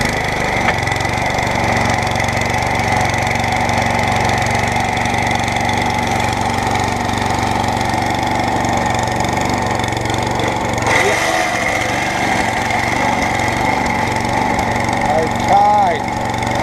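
A scrap lawn mower's engine runs with its blade spinning, a loud, steady, close drone that holds throughout with little change, while someone talks briefly.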